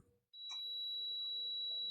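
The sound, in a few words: clamp meter continuity buzzer beep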